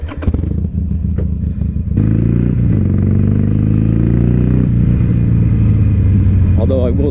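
A used Harley-Davidson Iron 883 Sportster rides through neighborhood streets, its loud engine rumbling close up with clatter at first, then a sustained, rising drone as it accelerates.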